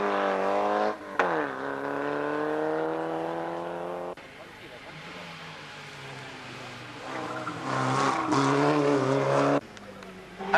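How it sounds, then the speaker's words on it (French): A Peugeot 205 Group N rally car racing in a 1991 rally, the engine loud and close as it revs up and drops with gear changes, tyres squealing, while a commentator talks over it. "Première sortie pour la 205 groupe N de Castagneto."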